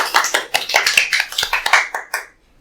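Studio audience and panel members clapping in welcome for two newly joined panelists during a Korean podcast recording, a brisk, fairly close burst of applause that tapers off and ends after about two seconds.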